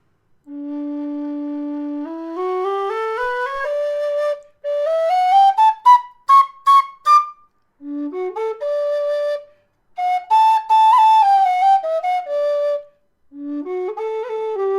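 A low D whistle made by Clover, played with a clean, warm tone: a series of phrases of sustained notes and quick ornamented runs, separated by breaths, close and clear and alone.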